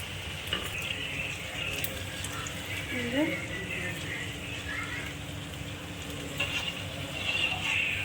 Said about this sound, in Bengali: সব লুচিগুলো এক এক করে আমি ভেজে নিই